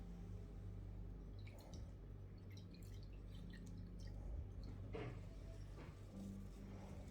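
Water drips from a half-wetted cloth during a manicure, a few soft, close drips over a low steady background hum, with no talking.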